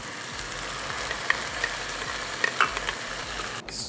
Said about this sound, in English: At this stage, I'm going to add the boiled and cooked dal and the vegetable.